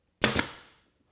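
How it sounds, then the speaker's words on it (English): A 23 gauge pin nailer drives a pin into a wooden picture frame, giving one sharp, close pneumatic snap with a quick double attack and a short fading tail, with no talk. "I'm going to use a 23 gauge pinner"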